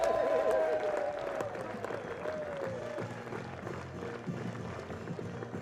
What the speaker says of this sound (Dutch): uw daverend applaus